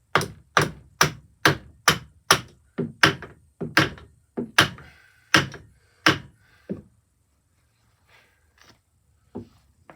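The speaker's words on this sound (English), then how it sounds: "Oh, let's give it a little tap." About fourteen sharp metallic taps strike a part held by bolts and a dowel pin, coming fast and close in a steady rhythm before a few faint knocks in near silence.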